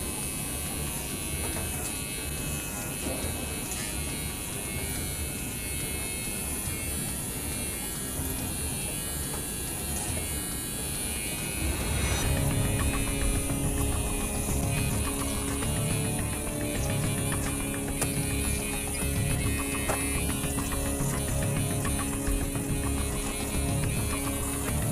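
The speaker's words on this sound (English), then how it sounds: "So now we'll be carving one last time, like flat trimming one last time before we move into the detailed part of carving" A rug tufting trimmer buzzes steadily as it flat-trims a tufted carpet, a continuous close electric whir that grows louder and rougher about halfway through as it bites into the pile.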